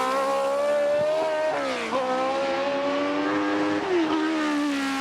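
A modern Mosler racing car engine revs loudly and steadily off the start line at the Festival of Speed shootout, pitch dipping a few times as the revs drop and recover, close and continuous.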